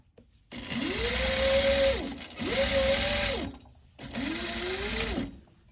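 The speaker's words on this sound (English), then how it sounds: "sew a 1/2 centimetre seam allowance" Sewing machine stitching a half-centimetre French seam on a fabric bag, running in three steady bursts of several seconds each with brief pauses between, close and loud, with no talking.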